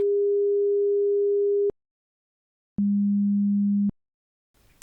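Hearing-test beep tones sound alone against silence: a steady pure tone holds for almost two seconds, then after a pause a lower steady tone sounds for about a second.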